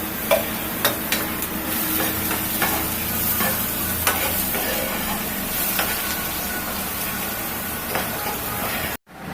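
Chopped garlic frying with dried chili in a pan for dal tempering, making a loud, close sizzle with frequent crackling pops and stirring scrapes, cut off abruptly near the end.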